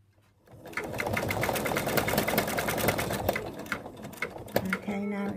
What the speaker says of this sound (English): the machine now is going to go around with big stitches